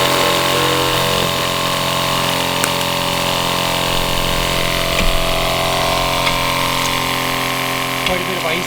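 An electric pump pushes maple sap into an evaporator with a loud, steady droning hum and constant motor whine, running unbroken throughout with a few faint knocks.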